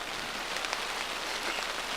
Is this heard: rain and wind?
yes